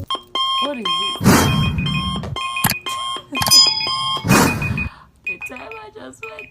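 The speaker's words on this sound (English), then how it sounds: "The timer just went up." A makeup challenge timer alarm rings in repeated electronic beeping bursts, sounding on and off between bursts of speech.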